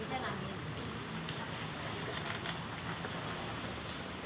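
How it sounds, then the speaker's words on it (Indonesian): Heavy rain driven by strong wind in Curup, a steady dense wash of falling water with faint patters, continuous and fairly close, while a person speaks over it. "Hujan angin."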